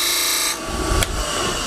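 Wood lathe with a tool scraping a bead straight across the top, a steady close whirring with a brief rougher cutting scrape in the middle.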